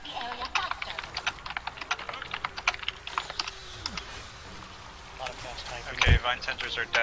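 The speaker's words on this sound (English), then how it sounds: "They just be hearing you typing." Rapid computer-keyboard typing during an online guild hall expedition game session, a steady patter of keystrokes throughout with a louder thump near the end, while players talk over voice chat.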